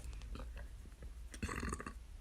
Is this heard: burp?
yes